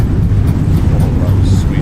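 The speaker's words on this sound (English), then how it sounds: "Reversers, nose down gently." Airbus A32NX airliner in Microsoft Flight Simulator deploying its thrust reversers on landing, a loud, steady low roar that rumbles on without break for the whole stretch.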